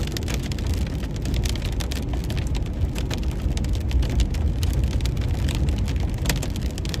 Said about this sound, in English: Hail's also not falling very fast.